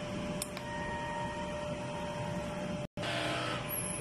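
A Smart 4-head large-format inkjet printer runs a head cleaning cycle, a steady mechanical hum with a faint high tone, brief clicks near the start and a sudden cut-out before the whirring resumes, moderately loud and without speech.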